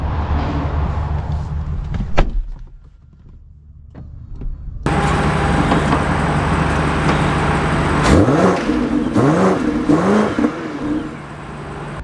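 A 2025 BMW X5 M60i pulls away and accelerates, its engine swelling to a steady loud drone after a quiet stretch with a few clicks, heard from inside the cabin.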